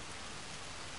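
Rain pours steadily, a dense, even hiss of drops on surfaces with no breaks, heard alone for a brief moment.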